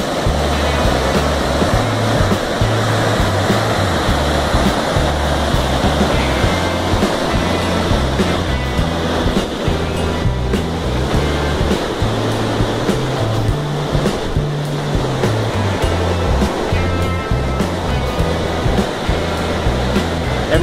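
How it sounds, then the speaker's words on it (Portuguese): The Cachoeira dos Luiz waterfall in Bueno Brandão, Minas Gerais, Brazil roars steadily and loudly, a dense, unbroken splashing wash without pauses. "Veja aí as cachoeiras que tem por lá."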